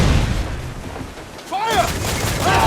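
Naval cannon fire in Assassin's Creed IV: Freedom Cry, heavy rumbling booms rolling under battle noise, with whistling shot and a second deep blast near the end; shouted voices overlap the barrage.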